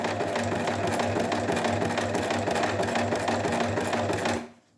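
A sewing machine stitches in the ditch along a bias-bound neckline, running in a loud, steady, fast whirr up close for several seconds before stopping abruptly, with no one speaking.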